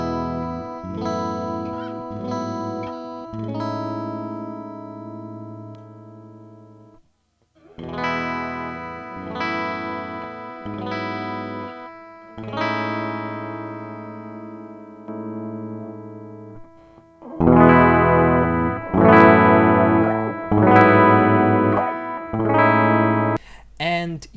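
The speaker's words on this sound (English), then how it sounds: "Your amp will clip and your sound will have too much of frequencies." Electric guitar through an amp pushed hard by a hot pickup position, bright distorted chords and single notes ringing out in loud phrases with short gaps between them.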